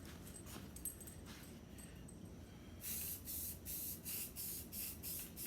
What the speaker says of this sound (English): Okay, nice light coat of paint.